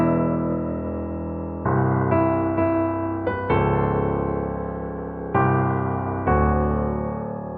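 The original Avengers movie theme plays as bold, sustained harmonic chords that strike in a series of swelling accents and ring out between hits, with no voices over it.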